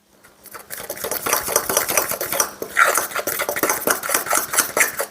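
A spoon or whisk briskly mixes a lemon juice glaze in a bowl, with continuous rapid clinking and scraping that is loud and close and starts after a brief quiet moment.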